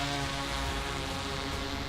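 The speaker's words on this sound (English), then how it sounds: "we deployed the Elios anti-collision drone and the Mattress M210 autonomous plane" An Elios anti-collision inspection drone flies close to bridge construction, giving a steady, dense whirring hum with a constant level and no voices.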